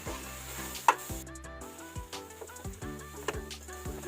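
A spice mix with Kashmiri chilli powder fries for a drumstick curry, a quiet sizzle under intermittent scraping as a spoon stirs the pan, close and fairly soft, with no speech.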